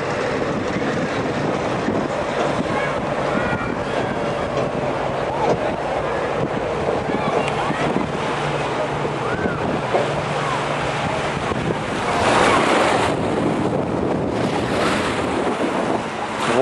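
Sea waves wash onto the beach along the Cannes riviera, a steady close wash of surf mixed with heavy wind buffeting the microphone, continuous and fairly loud throughout.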